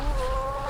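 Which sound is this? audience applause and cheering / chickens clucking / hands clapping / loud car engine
chickens clucking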